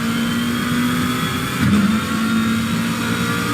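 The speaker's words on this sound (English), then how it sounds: "Obviously the onboard engine is going to be a little bit louder" A GT3 race car's onboard engine roars continuously at Suzuka in Assetto Corsa Competizione, a loud sustained note that dips briefly during a gear change before holding steady again.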